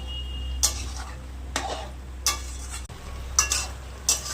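Flat beans and radish being stirred in a pan with a yogurt and poppy-seed paste, a few scraping strokes of the spoon at spaced intervals over a low steady background hum, no talking.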